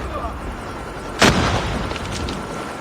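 A Semtex grenade goes off in a ranked first-person shooter match, a single sharp burst about a second in that rolls off into a short rumble over steady game ambience.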